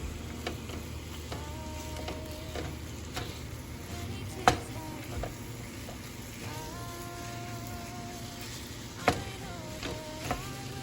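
Italian sausage and chopped onion brown together in a pan, a steady low sizzle with occasional stirring scrapes and a few sharp utensil clacks against the pan.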